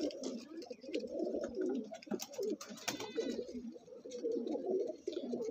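An Andhra pigeon coos in repeated soft, throaty rolls, close by and fairly quiet, with a few faint rustles between the calls.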